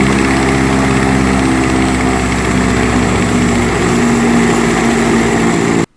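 Big old radial aircraft engine, such as a Wright Cyclone, roaring steadily after a cold start. It is loud and close, with a continuous rough drone that cuts off sharply at the end.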